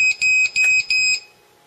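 A blocked USB scanner gives three or four steady high electronic beeps in a quick, even rhythm, loud and close, then falls silent.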